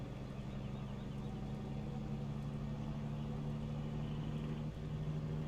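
A truck engine in Farming Simulator runs steadily at a low, even drone with a constant hum, close and unbroken, and no one speaks.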